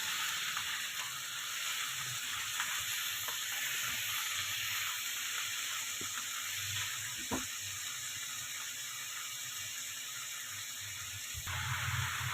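Chicken frying in a pan, a continuous quiet sizzle and hiss with occasional small pops and clicks throughout.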